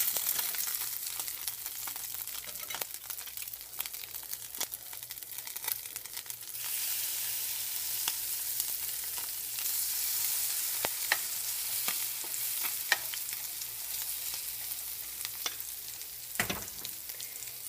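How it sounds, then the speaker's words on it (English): Fish puppies frying in hot oil give a steady, close sizzle with scattered pops and crackles throughout, briefly louder near the end; no one speaks. "This one hopefully will fry up a little better."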